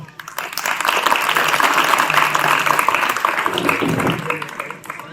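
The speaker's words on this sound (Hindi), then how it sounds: "जोरदार तालियों से।" Loud applause from a crowd at a Republic Day program in a government school in Kasandi village, steady and dense for several seconds with voices mixed in.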